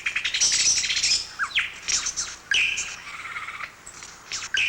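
A lyrebird pours out its mating song, a rapid run of sharp chirps, whistles and sweeping mimicked calls in bursts, near and clear over a quiet background.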